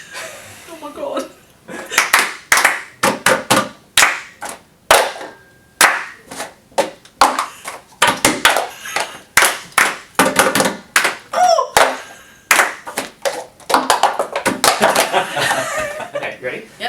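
Bursts of hand clapping and smacking in a rhythmic music therapy game at a hospital, loud and close, in uneven groups with pauses, mixed with talk and laughter.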